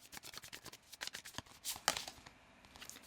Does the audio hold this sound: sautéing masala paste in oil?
no